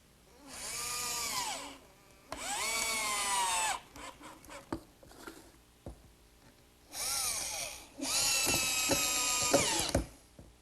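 Cordless power drill driving screws into pre-drilled, countersunk wood pieces while assembling a tabletop, heard as four loud whirring bursts that rise in pitch, separated by clicks and handling clatter.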